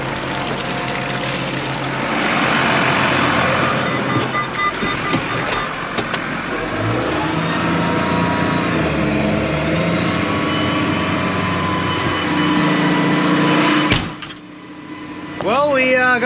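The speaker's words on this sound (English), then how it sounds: "get up in the tractor as quickly as possible, start driving forward." A farm tractor's engine pulls forward at a new feed mill, a loud, steady drone rumbling throughout with a brief sharp clatter near the end and faint voices in the background.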